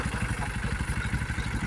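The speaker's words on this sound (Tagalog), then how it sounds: "Maanda na yung traktora." A tractor engine idles steadily before a climb up a mountain, with a low, pulsing chug that stays loud and close throughout and no voices over it.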